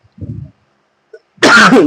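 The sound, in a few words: cough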